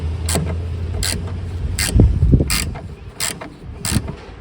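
Repeated metallic ratcheting clicks from a wrench loosening the battery bolts on a Peugeot 307, in short bursts roughly every half second to second, close up with some clunks.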